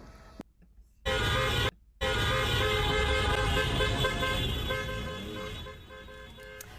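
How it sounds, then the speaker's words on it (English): Car horns honk at a street protest against immigration policies: a short gap, then loud sustained tooting layered with traffic noise that briefly cuts out and then tapers slightly toward the end. "Honking car horns and chanting people."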